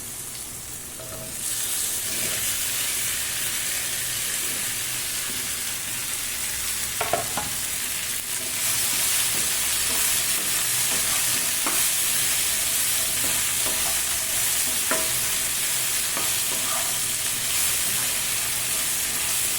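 Okra (bhindi) frying with softened tomatoes in a pan for vendakka kara kuzhambu, a steady loud sizzle with occasional scrapes and taps of a spoon stirring, close up.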